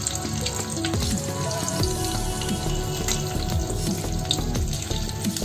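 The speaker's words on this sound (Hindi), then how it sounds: "तेल गर्म हो चुका है, अब मैं इसमें पनीर डाल रही हूँ। इसे हमें अच्छे से फ्राई कर लेना है।" Paneer shallow frying in hot oil over a medium flame, a steady crackling sizzle with clinks and scraping of utensils running throughout, close and fairly loud.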